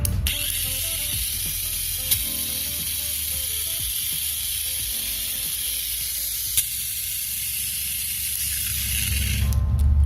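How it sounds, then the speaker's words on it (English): A Tamiya Mini 4WD Neo Tridagger on its chassis, motor running as a steady high-pitched electric whine with gear buzz and ratcheting texture, close and continuous with a couple of faint clicks. "I love the sound of this chassis"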